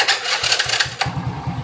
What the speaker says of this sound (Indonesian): Coba tak matiin, tak starter lagi guys.